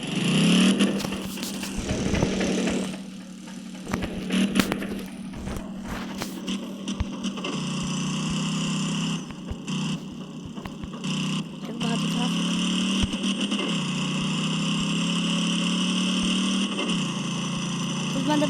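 A Zaporozhets car engine in the driving game Voyage 4 drones steadily, shifting pitch as it accelerates through gears, with a voice talking over it throughout.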